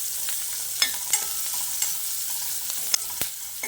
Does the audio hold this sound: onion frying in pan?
yes